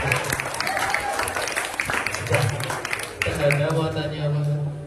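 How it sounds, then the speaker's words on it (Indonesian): An audience at a student theatre parade claps after a drama performance, and the steady applause runs the whole way through while voices talk and call out over it. "Beri tepuk tangan kepada saudara."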